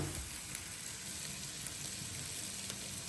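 Onions sizzle softly in a pan under a quiet, steady hiss, with a few faint clicks from a light stir.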